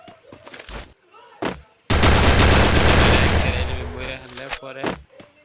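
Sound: gunfire from an MP40 in the video game Free Fire

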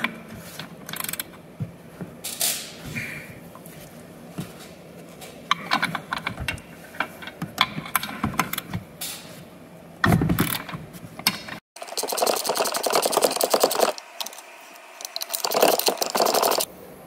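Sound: wrench turning stem nut on Jeep JK front axle

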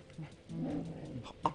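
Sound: ghost dog sounds in the video game Luigi's Mansion

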